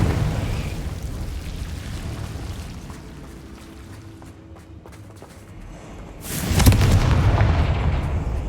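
A Confringo blasting spell in Hogwarts Legacy erupts with a sudden loud booming burst late on, following a rumbling stretch of game ambience and smaller impacts.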